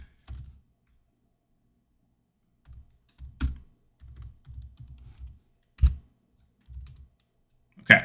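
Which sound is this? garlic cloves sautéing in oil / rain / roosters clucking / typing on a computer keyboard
typing on a computer keyboard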